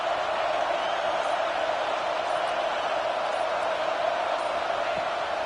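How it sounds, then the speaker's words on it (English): A football crowd at a Louisville game roars in a steady, broad wash of sound, continuous and fairly loud with no break. "The roar of the crowd trying to fuel this defense to keep them pinned in their own end"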